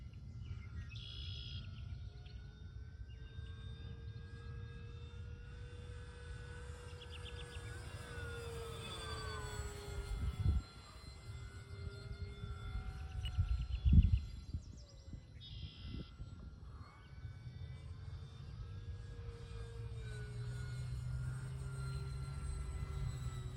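An Eflite P47 RC model plane makes a pass overhead, its motor whine rising and falling in pitch as it approaches and recedes, fairly faint over a steady outdoor background with bird chirps and brief thumps near the middle.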